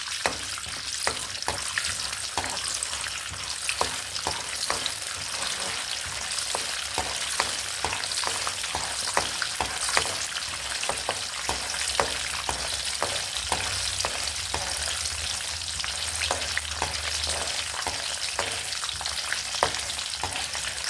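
Raw chana dal sizzling and frying in hot oil in a pan for eggplant gongura curry, a steady close crackle with light stirring scrapes throughout, no voices.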